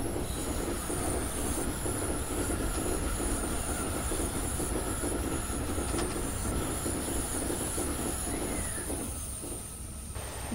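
A Tokyo commuter train on the Keihin-Tohoku or Utsunomiya Line, simulated in Train Simulator, rumbles steadily and close with a constant motor hum, wheels clacking over rail joints and a high squeal, all continuous with no talk.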